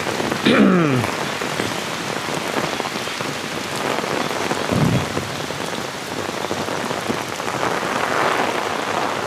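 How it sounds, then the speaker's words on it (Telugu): Steady rain pours down at Bekal Beach in the evening, a dense continuous hiss of drops hitting a surface, with a couple of brief passing whooshes early and midway. "వర్షంలోనే వెళ్తున్నా"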